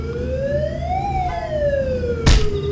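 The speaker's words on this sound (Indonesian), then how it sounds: "Pas ada ambulans atau pemadam itu guys." An ambulance or fire engine siren wails nearby, its pitch sweeping up and then down, with road noise beneath and a sharp thump near the end.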